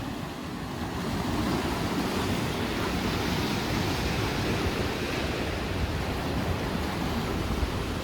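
Rough sea waves break along the rocky Ligurian coast under strong wind, making a loud, constant roar with buffeting wind that fills the whole stretch.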